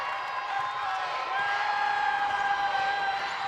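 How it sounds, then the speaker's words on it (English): A small but feisty basketball crowd in Ted Wilson Gymnasium swells with steady cheering and shouting, a diffuse, roomy roar that holds and grows slightly louder. "small but feisty crowd getting loud in Ted Wilson Gymnasium"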